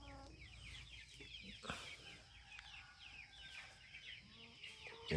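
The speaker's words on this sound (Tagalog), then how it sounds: "Yan po yung rooster na mixed breed na" Heritage chickens, a mixed-breed Asel and Rhode Island rooster with hens, cluck steadily and close by in a farmyard, with soft overlapping calls and no talking.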